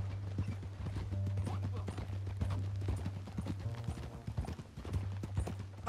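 Steady clip-clop of horse hooves at a walking pace in a video game, with a low hum and faint murmuring voices underneath.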